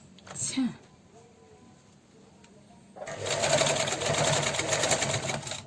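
A sewing machine stitches elastic onto homemade shorts, starting up after a brief pause and running steadily at a close, even whir while a voice talks early on.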